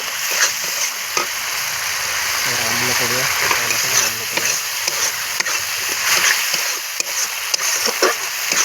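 Fish fries in a pan in a home kitchen, a continuous sizzle and spatter with occasional stirring clinks, while a voice talks briefly over it partway through.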